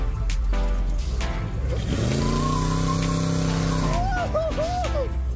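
At a car show, a car spins its tires, with a sustained engine roar under rising, wavering tire squeals heard loud and close.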